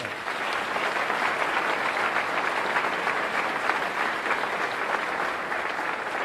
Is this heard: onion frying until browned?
no